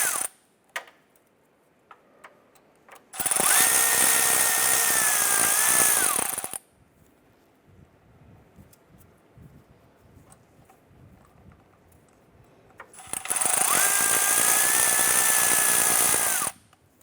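A 10mm socket with swivel and extension works on a 2008-2012 Honda Accord engine during a water pump replacement, with two loud three-second bursts of a power tool whirring, separated by quiet stretches with faint clicks.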